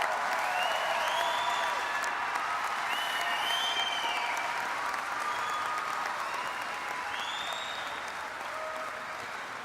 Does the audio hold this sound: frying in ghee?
no